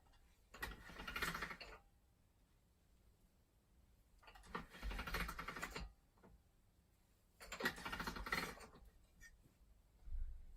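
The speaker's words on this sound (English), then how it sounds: "put this through my pasta machine just to soften that up a bit" Polymer clay, bronze in colour, is fed through a hand-cranked pasta machine three times, each pass a short burst of gear clicking and rolling that starts and stops, quiet and close.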